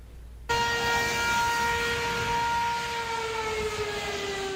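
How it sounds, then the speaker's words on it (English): An outdoor tornado warning siren in Iowa starts abruptly and wails steadily at full volume, a loud sustained tone holding without pause. "one thing that really has remained the same for a very long time is outdoor warning sirens"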